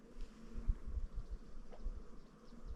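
Bees buzz faintly near a tree beside a lakeside bass fishing spot, a soft continuous hum with low thumps and rustles underneath.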